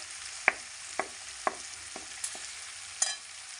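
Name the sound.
potatoes frying in oil with turmeric, stirred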